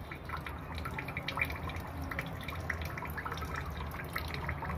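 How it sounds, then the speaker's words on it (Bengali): Water poured close up into a tamarind mixture for Bengali phuchka, a steady trickling and dripping pour that runs throughout with no talking. "তো এখন পানি ঢেলে দিচ্ছে"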